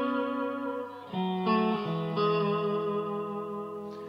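Electric guitar played through an amp with reverb, sustained notes ringing one after another with a clean, smooth sound and lingering decay, no talking.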